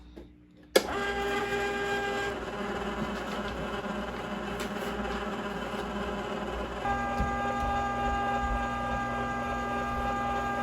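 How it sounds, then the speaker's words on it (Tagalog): Ice cream maker switched on with a click, then a steady buzzing motor hum churning strawberry ice cream, continuous and close, with no talking. "next we'll turn on the machine and leave this for about 35 to 40 minutes"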